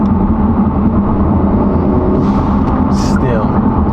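A 2024 Hyundai Elantra N fitted with an aftermarket intake, running in eco mode, gives a steady low engine drone with a brief whoosh, while a person talks over it.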